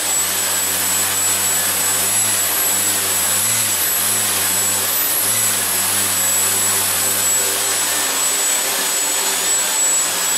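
An RC tricopter's electric motors and propellers run continuously at close range, a loud, steady high-pitched whine and buzz with slight pitch wavering in the first half.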